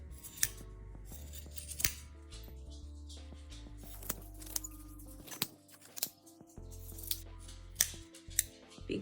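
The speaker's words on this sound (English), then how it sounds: "I am going to then take my scissors and trim all the way around the length approximately that you would like it." Scissors snip through macrame cord while trimming the fringe of a bohemian ornament, a series of crisp, close cuts in an irregular rhythm, about a dozen sharp snips over a quiet background.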